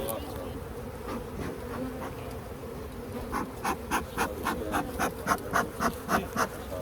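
Honey bees buzz steadily at an opened hive during a split and inspection, a dense close drone with rhythmic pulsing bursts building in the second half, no talking.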